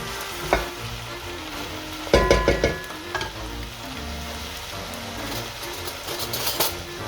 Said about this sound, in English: Put the mushroom in, give another good mix.